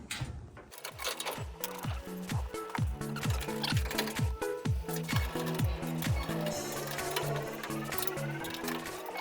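Bolts are threaded by hand while parts of a CyberCamper are assembled for a Cybertruck: a fast, regular run of close mechanical ratcheting clicks that holds a steady rhythm for several seconds.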